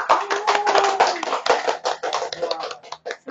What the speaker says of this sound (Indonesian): beri tepuk tangan pada kelompok 2